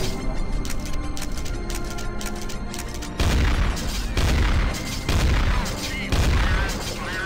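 Repeated heavy shotgun blasts in Counter-Strike: Source zombie escape mode, four loud booming shots spaced about a second apart over a dense backdrop of continuous game gunfire and chaotic battle noise.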